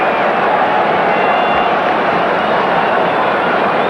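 A rugby crowd at a 1993 Transvaal match roars and cheers after a try, a dense, sustained wash of many voices at steady loudness throughout.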